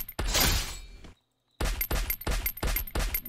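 Gunfire rattles in the battle royale game Free Fire: one burst of shots, a short gap of silence, then a rapid string of evenly spaced loud shots.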